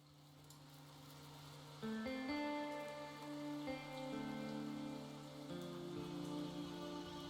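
Steady rain patters outside, a continuous wash of drops on a surface, while a game soundtrack of sustained melodic tones plays over it at moderate level; no talk.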